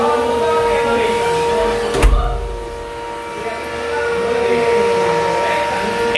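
An ASIC cryptocurrency miner runs loudly in a sealed room, giving a constant roaring fan rush with steady high whining tones. A brief thump interrupts near the middle.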